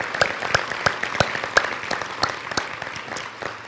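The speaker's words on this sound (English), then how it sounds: "Let's give Mayor Hoy another round of applause for an amazing job." Applause from an audience at a State of the City address, a steady crowd clapping with sharp individual claps standing out, fairly close and sustained with no talk over it.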